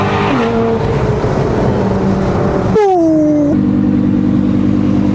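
Lamborghini supercar engine revving loudly up close at a holiday weekend supercar rally cruise, a sustained roar with rising and falling pitch sweeps as the throttle is blipped.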